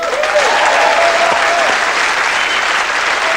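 Studio audience applauding on a comedy chat show, a loud sustained wash of clapping with a few faint tonal sounds over it early on.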